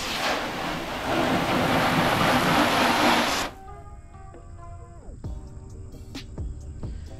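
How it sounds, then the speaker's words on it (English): Water sprayed over a car freshly coated with Shine Armor graphene ceramic spray, a loud steady hiss and splash lasting about three seconds before cutting off, followed by quieter dripping and faint ringing tones. "We're gonna test it with a bit of water."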